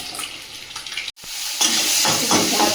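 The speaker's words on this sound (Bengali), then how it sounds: "এদিকে রান্নাটা চাপিয়ে দিলাম, ডিমটা ভেজে নিচ্ছে" An egg frying in a pan on a home kitchen range gives a steady, close sizzle with stirring scrapes. A brief dropout breaks it before the sizzle returns a bit louder.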